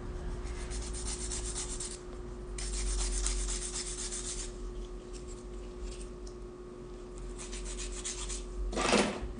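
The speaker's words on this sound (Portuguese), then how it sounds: "Agora eu já vou acertar a parte interna com a minha broquinha agulha" A small needle drill bit grinds and rubs against the wall of a fiber pot in bursts of close, scratchy abrasion over a faint steady electric whine, ending with a brief sharper grinding burst.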